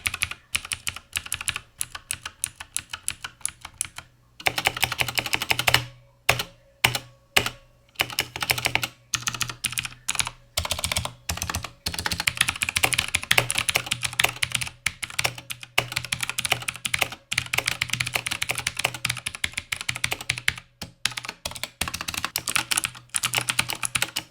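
Loud clicky typing on a budget mechanical RGB gaming keyboard with blue switches, rapid bursts of sharp key clicks separated by short pauses, close and dry.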